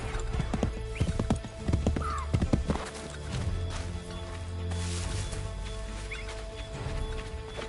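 Horse hooves in Assassin's Creed III clatter in a quick, uneven gallop with a neigh, then settle into a lower, steadier rumble of movement, loud and close.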